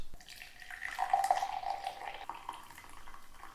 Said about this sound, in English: I innocently pour the tea out